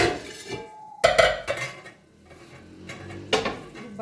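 A large open pot is handled for cooking pasta, giving several sharp metallic clanks and clinks. Distinct knocks are spaced between quieter pauses, close to the microphone.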